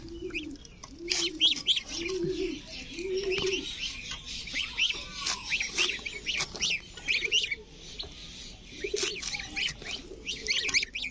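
Ducklings peep in rapid, high-pitched chirps, with several lower cooing calls early on.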